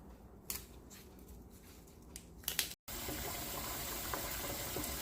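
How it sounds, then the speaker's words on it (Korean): Young radish greens are rinsed for kimchi under running tap water. Quiet rustling and handling come first, then after a short gap a steady, close, full rush of water runs on alone. "열무를 씻어 볼게요."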